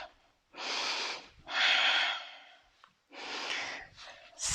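Breath in a Pilates workout comes as loud, close exhalations and inhalations, four long airy breaths in a steady rhythm with brief gaps between.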